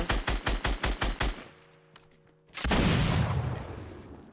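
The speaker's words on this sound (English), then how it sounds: "Someone's throwing grenades behind us" Explosions and gunfire in a Fortnite Battle Royale match: a rapid string of about seven sharp, evenly spaced bursts, a brief lull with a steady tone, then a loud sustained blast that slowly fades.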